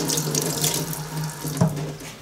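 Tap water runs steadily over a metal part during a water break test after cleaning for home-shop parkerising, a continuous close splashing stream with a brief louder splash near the end.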